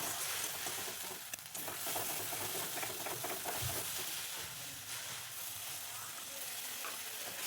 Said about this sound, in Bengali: এবার দিয়ে দেবো পোস্ত বাটা, দিয়ে এটাকে ভালো করে কষিয়ে নেব।